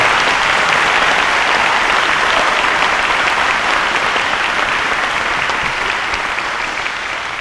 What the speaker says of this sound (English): Give these girls a big round of applause.